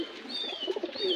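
Pigeons cooing softly at a Bangladeshi pigeon keeper's loft, a faint low coo with thin higher whistling tones over quiet background.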